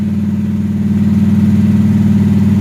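1970 car engine with a Holley 850 carburetor held at 2600 rpm: a loud, close, steady mechanical drone with a fast, even rhythmic pulse and no stumbling, running alone without voices.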